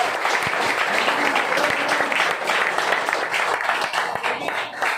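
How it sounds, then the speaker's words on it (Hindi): An audience at a business training meeting bursts into loud, dense applause, many hands clapping rapidly and continuously for several seconds without letup. "जोरदार ताली आप लोगों के लिए।"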